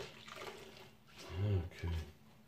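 Water runs and splashes in a sink while dishes are washed, a steady trickle with a couple of louder gushes, heard under a person talking.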